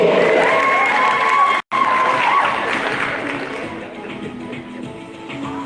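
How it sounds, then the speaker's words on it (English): A conference audience breaks into applause and cheering, a loud mixed crowd roar with whoops at first, briefly cut off, then gradually thinning and fading as voices murmur underneath. "How about a round of applause for the surprise that is yet to unfold?"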